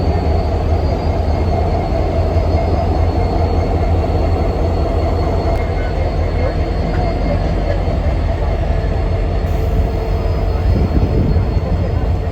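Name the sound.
trio of locomotives moving during switching operations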